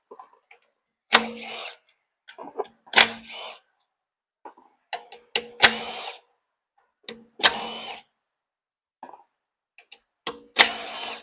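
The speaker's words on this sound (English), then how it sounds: "it's finally time to pull out the 10 mil, and I think the screws are kind of a bit skinnier for this one" A 10 mm tool removes screws from the inverter of a third-generation Toyota Prius in short ratcheting bursts, about six separate spells with clicks and small metallic taps between them, close and fairly quiet, with no talk.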